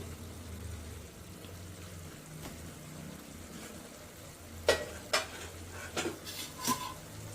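Chicken pieces cook in oil in a pan for a chicken curry, a faint low sizzle under a quiet background, then a few sharp scraping stirs and clinks of a utensil against the pan near the end; no talking.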